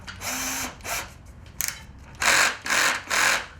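A drill driver sinks a screw into reclaimed wood while building a boot rack, with a few short whirring bursts early on, then three loud, close bursts in quick succession near the end.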